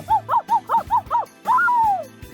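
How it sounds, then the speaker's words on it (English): A dog in a visual novel game barks in a quick series of five yips close by, followed by a longer drawn-out whining bark. "I could hear Kotaro's barking and Saya's shouting coming from outside"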